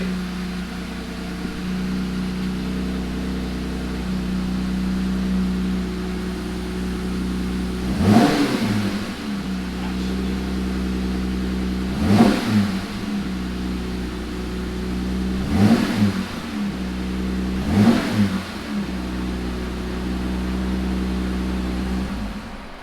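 Jeep Wrangler JL with a straight-pipe exhaust idling steadily after a cold start, with four short revs spaced through the run, moderately loud and close, no talking.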